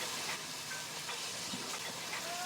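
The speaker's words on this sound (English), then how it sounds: "the days of the classic New Zealand bush tramway are evoked by a Heisler V-type geared locomotive" A Heisler V-type geared steam locomotive on a New Zealand bush tramway gives off a steady, soft hiss of steam, with faint mechanical clanks and squeaks beneath it.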